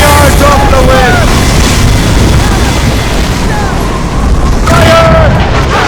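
Naval cannon broadside in Assassin's Creed Rogue: loud, continuous booming rumble from ship guns throughout, with shouted voices of the crew over the barrage.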